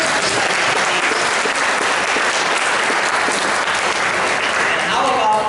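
Sustained applause from the audience at an evening club business meeting, honoring first-time attendees: a loud, dense wash of clapping that holds evenly throughout with no break.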